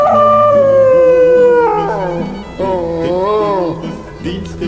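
A dog howls in long, wavering, tuneful notes in several rising and falling phrases, loud and close, with no other sound.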